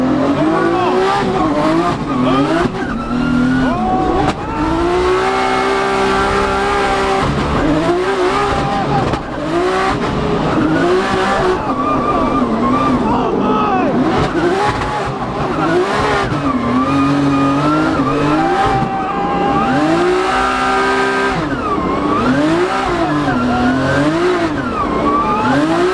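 Formula Drift race car at a drifting event, engine revving hard and tires squealing continuously and loudly, with wavering engine tones throughout.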